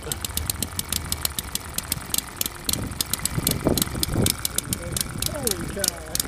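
A small multi-cylinder model engine, a long inline build shown at a Tucson car show, runs with a rapid, steady ticking beat after starting, close by, while people talk over it throughout.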